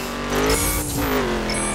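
Steady engine drone of a car driven in the racing game The Crew on a mountain slalom, with a sustained tone that rises and bends alongside faint tire noise, loud and continuous throughout.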